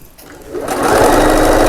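A sewing machine stitching a fabric cushion, starting up after a brief pause and running in a loud, fast, continuous whir close by.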